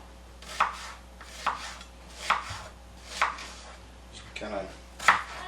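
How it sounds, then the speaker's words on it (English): A knife coarsely chopping half an onion on a board gives five or so sharp, evenly spaced chops about a second apart. They are close and crisp, with a brief muffled voice between them. "coarsely chop it up."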